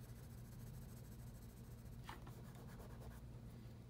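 A 5B pencil shading a drawing of a cardinal's beak on paper, faint steady graphite scratching with a brief brisker burst of strokes midway, very quiet and close, no talking.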